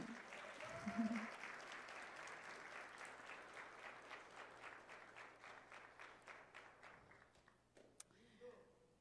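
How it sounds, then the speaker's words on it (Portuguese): A church audience applauds a pastor called up to the front, a steady round of clapping that builds early and then thins out over several seconds, with a faint voice around the applause. "Palmas para o nosso apezão."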